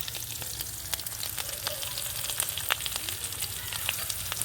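Onions, curry leaves and ginger-garlic paste fry in a hot pan with a steady, close sizzle and crackle, broken by scattered pops and soft stirring scrapes.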